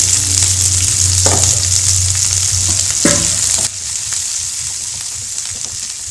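Onions, curry leaves and green chillies frying in a pan for sundal, a loud close sizzle with a couple of spatula scrapes, dropping to a softer steady crackle partway through.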